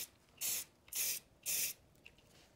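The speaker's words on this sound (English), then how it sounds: "And I'm going to spray it" Rust-Oleum earth brown spray paint sprayed onto a resin sidewalk model, three short hissing bursts in a quick, even rhythm, close and clear, followed by a faint click.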